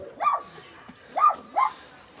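A dog at a partially burned kennel in Santo Tirso gives three short, close barks in an uneven rhythm, with brief quiet gaps between them.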